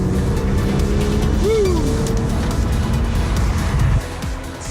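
A Porsche sports car engine rumbles steadily with a low exhaust note through twin oval center exhausts and a brief rising whine, then the sound drops off near the end.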